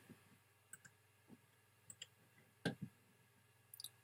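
A computer mouse right-click comes as a few small, quiet clicks scattered through a near-silent room, one sharper click standing out midway.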